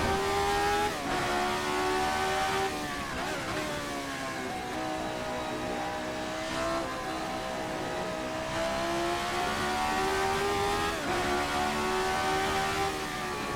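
The Formula 79 race car engine in a video game howls continuously near the listener, its pitch rising and falling through shifts and throttle changes, with no voices.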